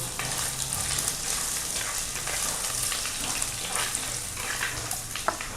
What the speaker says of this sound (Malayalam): നമ്മുടെ ഉള്ളി മൂത്തു. അതിലേക്ക് നമുക്ക് ഒരു കഷ്ണം ഇഞ്ചി അത് ഇട്ട് കൊടുക്കുക.